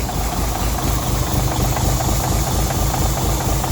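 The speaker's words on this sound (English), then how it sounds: "sounds actually idling a little bit on its own" An old 352 V8 engine idles roughly, a loud low rumble with uneven knocking and rattling, running steadily on its own.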